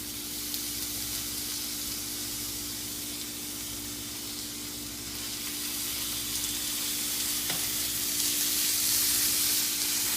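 Beef sizzles and fries in bubbling caramel in a pan over low heat, a steady close hiss with crackling that swells louder toward the end.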